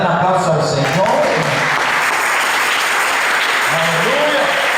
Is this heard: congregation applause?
yes